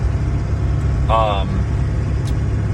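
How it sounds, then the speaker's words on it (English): Inside a moving car: a steady, close low road-and-engine rumble fills the cabin, with one brief wavering chirp partway through. "I'm just driving right now."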